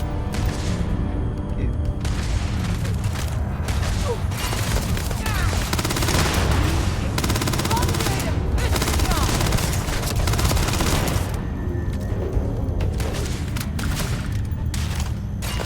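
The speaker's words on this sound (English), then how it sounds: "those explosions just hit me too. Bad grenade incoming." Dense Starfield combat with explosions, a grenade blast and rapid gunfire, a loud, continuous barrage of booms and shots with a voice talking underneath.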